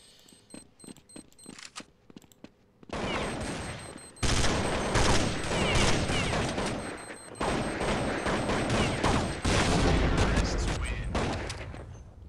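Rapid gunfire in Counter-Strike 1.6 on the Dust2 map, dense bursts of shots that start after a quiet opening and run loud and continuous to the end, with players talking over it.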